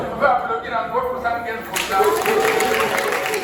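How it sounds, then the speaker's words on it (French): A crowd at a mayor's public address claps, scattered at first and then swelling into fuller applause partway through, with voices and talk audible over and around the clapping. "Est-ce que vous pouvez applaudir encore pour"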